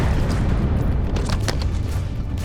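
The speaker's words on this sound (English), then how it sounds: "mortar fire and artillery fire coming from the 88mm guns 2 kilometres inland" Artillery and mortar fire from 88mm guns rumbles as a dense, continuous low booming roar with scattered sharper cracks, loud and steady throughout with no speech.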